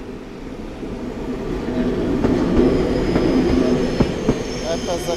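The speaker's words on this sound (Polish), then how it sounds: "Również dłuższy skład mamy dzisiaj." Train at platform 9 of Warszawa Zachodnia station in the evening, a long consist rolling past with a steady rumble, faint wheel squeal and a few sharp clicks and clanks toward the end.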